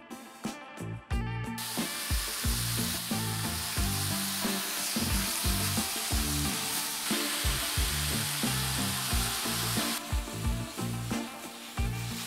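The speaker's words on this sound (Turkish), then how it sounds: "Makarnalarımı 7 dakika haşladım. Hafif suyla beraber tavaya alıyorum." Boiled pasta with a little of its water sizzling in a pan with toasted walnuts, a steady hiss with stirring clatter throughout, loud and close.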